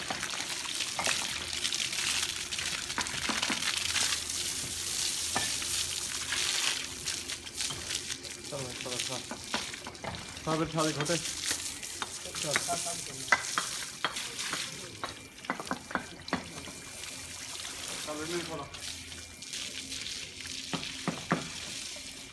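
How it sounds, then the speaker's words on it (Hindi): Water splashes and trickles as a calf is washed outdoors, a continuous wet hiss with intermittent splashes and dribbles, while voices talk over it now and then. "मुंह धुल रहा है, बहुत अच्छा असलम।"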